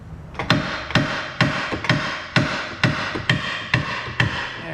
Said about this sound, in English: I usually like to use the hammer and pulley combo.